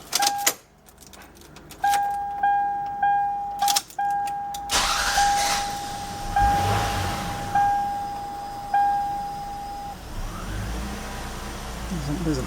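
A 2000 Lexus RX 300 with a misfire is started: an ignition chime repeats in short beeps, then the starter cranks and the engine catches into a steady idle, with a faint voice nearby.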